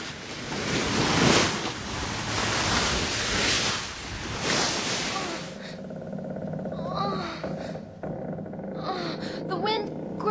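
Wind and surging sea waves as a sailing ship casts off, a broad roaring wash that gives way to quieter water and faint creaks later on.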